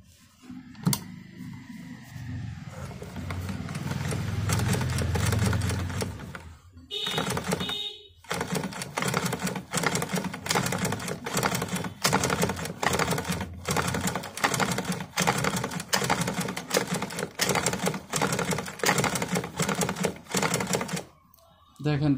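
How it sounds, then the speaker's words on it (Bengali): A sewing machine stitches a seam alongside an earlier line of stitching, with a fast steady mechanical clatter running for most of the stretch, pausing briefly a few times, while someone talks over it. "আমরা এটার পাশে আবার সেলাই করছি"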